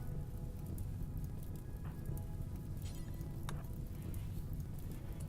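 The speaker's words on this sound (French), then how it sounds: "au moins il pleut" Steady, dense rainfall in the video game RimWorld patters throughout, a constant wash of droplets with a few brief crackles, no voices.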